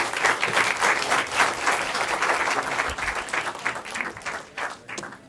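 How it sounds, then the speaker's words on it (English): Attendees at a professional seminar on trust and influence applaud together in a full, even round that fades slightly toward the end. "Please give yourselves a round of applause"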